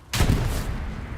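A tank cannon firing in Hell Let Loose, a single loud, close boom with a sharp onset, followed by a rolling rumble that decays over about a second.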